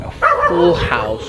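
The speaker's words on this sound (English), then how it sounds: "That's the neighbor's dog." A neighbouring dog at an Airbnb house in Siem Reap, Cambodia, gives a single short, close yipping bark, with a person talking over and around it.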